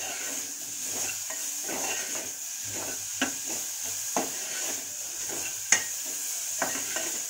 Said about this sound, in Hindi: अब मैं इसको थोड़ा सा यही सब्जी में अच्छा खासा चला लेती हूँ